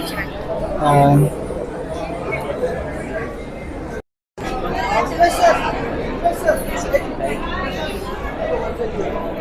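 Dense crowd chatter at a film premiere photoshoot for the Marathi film "Ek Hota Malin", many overlapping voices forming a steady loud hubbub, with a brief silent gap midway.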